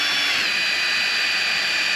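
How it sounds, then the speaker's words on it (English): A drill with a 1/4 inch bit bores through a door window switch bracket from a Ford F-150, a loud continuous high whine held steady throughout, close up, with no talking. "I got a 1/4 inch drill bit, and we're just gonna go ahead and go right through this."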